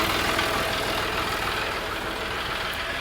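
Farm tractor engine idling close by while a hay spike is being fitted to the front, a steady mid-to-low mechanical rumble holding constant throughout with no talk.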